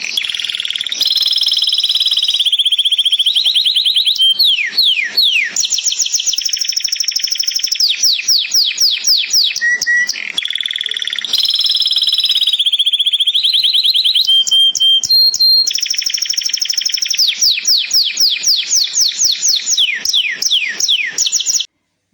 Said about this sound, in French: on va écouter le chant des oiseaux